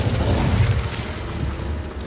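Incendio fire spell cast in Hogwarts Legacy, a dense roaring whoosh of flame with crackling texture, loud and sustained across two seconds, heavy in the low end and fading slightly toward the end.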